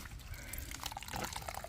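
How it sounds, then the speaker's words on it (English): A potted pear sucker is watered, a soft trickle and drip of liquid into the soil, faint and close, with no talk. "Just gonna give it some water because it looked like it's struggling."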